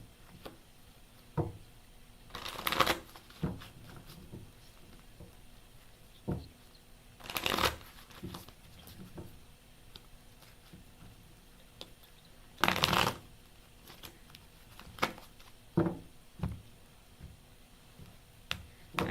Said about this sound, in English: I couldn't shuffle my cards if my life depended on it